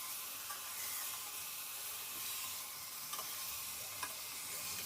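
Meat being stirred into spices in a pot, a faint steady sizzle with soft scraping and a few light clicks of the spoon, quiet throughout with no speech.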